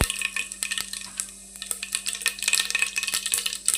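Mustard seeds, cumin, bay leaf, cardamom and curry leaves sizzle in hot oil for vegetable pulao, crackling close up with a steady frying hiss and scattered sharp pops and clicks.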